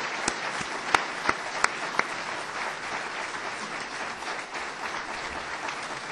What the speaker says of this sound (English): could we all give a round of applause to everybody that contributed to that?